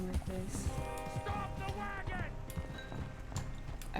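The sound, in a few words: horse hooves in a video game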